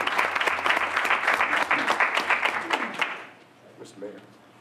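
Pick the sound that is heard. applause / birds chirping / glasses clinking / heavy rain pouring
applause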